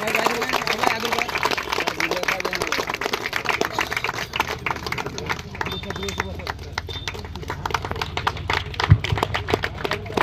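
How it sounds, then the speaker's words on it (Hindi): A crowd at a trophy presentation breaks into dense, continuous applause, many hands clapping rapidly and loudly throughout, with voices mixed in underneath. "ताली ताली ताली"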